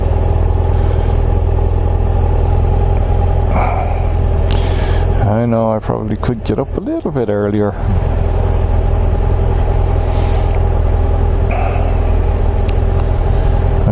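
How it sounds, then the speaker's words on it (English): Steady heavy road traffic rumbles on a wet morning around 7:40, engines droning continuously with a louder vehicle passing close by midway, while someone talks over it. "still traffic is heavy enough"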